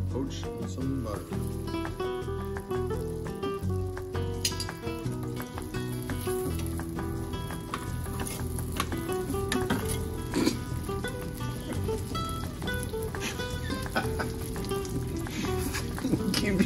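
Half butter and half margarine sizzling over medium heat in a small pot, a steady frying crackle under music and occasional talk.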